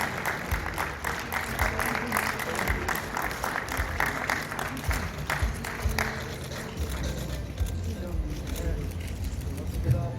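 Congregation applauding at a church ceremony celebrating the union of the Hapdong and Gaehyeok denominations, dense steady clapping for about six seconds that thins into a softer patter, with voices underneath.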